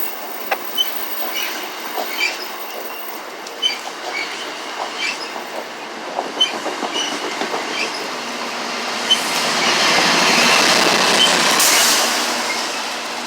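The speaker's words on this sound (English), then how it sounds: "There's another train." A commuter rail train passes through the Four Corners Geneva Ave station, its wheels clicking in a steady series over rail joints before a rising, louder rush and a brief high squeal as the cars go by close.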